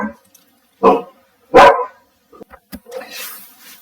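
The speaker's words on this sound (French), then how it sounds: "Désolé si vous avez entendu les aboiements, n'ayez pas peur, c'est la chienne de mon fils." A female dog barks indoors in a home, with two loud, close barks followed by softer yips and shuffling.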